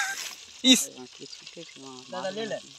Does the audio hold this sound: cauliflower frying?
yes